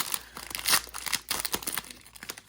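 Wrapped trading card packs from a Panini Crusade mega box shuffled by hand, giving a run of crisp crinkling, rustling bursts of foil wrappers, close and fairly loud, with no talking.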